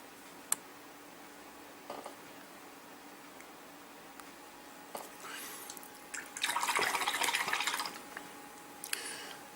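A paintbrush swished and rinsed in a small pot of water while painting a miniature figure, a few faint clicks and drips, then a burst of splashing swirling, heard close and quiet with no talking.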